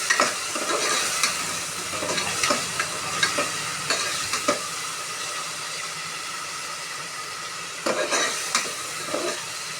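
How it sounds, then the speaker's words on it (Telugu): Ginger garlic paste frying in hot oil, a steady dense sizzle with repeated sharp stirring scrapes and clicks from a spoon against the pan, close and continuous throughout, with no voices. "అల్లం వెల్లుల్లి పేస్ట్ వేసుకున్న తర్వాత బాగా ఆయిల్లో ఫ్రై"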